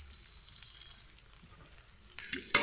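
Grated paneer and boiled potato frying together in a pan, a steady close sizzle with a brief stirring scrape at the end and no talking.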